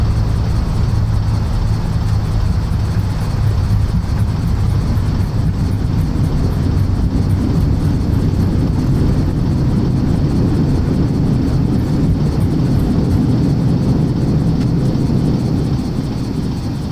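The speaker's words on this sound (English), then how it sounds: "Okay, reverse thrust." Steady, loud engine roar of an airliner's reverse thrust after landing in Microsoft Flight Simulator 2020, a broad rumbling drone that holds constant throughout with no speech.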